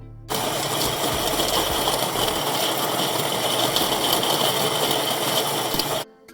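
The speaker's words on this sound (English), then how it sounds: "So this here is my grinder going to work." An electric coffee grinder runs steadily on specialty beans, a dense, loud and even whirring grind lasting about six seconds, close by, then cutting off abruptly.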